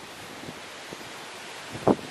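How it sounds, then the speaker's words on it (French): Strong wind blows on the far side of a cyclone's eye, a steady broadband roar of wind buffeting the microphone, with a sharper gust near the end and no talk. "Avec énormément de vent."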